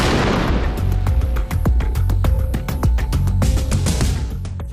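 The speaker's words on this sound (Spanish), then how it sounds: "Se ha liberado muchísima energía en ambas explosiones" Shaped charge detonating against a stack of steel plates, a loud blast followed by a rapid crackling series of sharp bangs and impacts over a dense, roaring low rumble, close and sustained.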